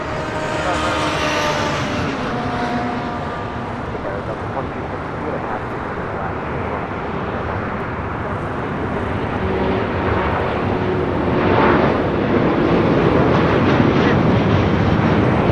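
An All Nippon Airways jet airliner rumbles loudly at LAX, a broad steady roar of engine noise that swells slightly toward the end, heard from nearby outdoors.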